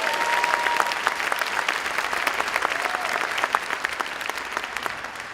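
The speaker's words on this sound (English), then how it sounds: "That deserves a round of applause as well." A large audience at a high school graduation ceremony gives steady, sustained applause, the clapping dense and even and heard from a moderate distance throughout.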